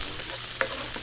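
Garlic frying in hot oil in a pan gives a short burst of a steady, moderate sizzling hiss with one brief clink in the middle; no voices.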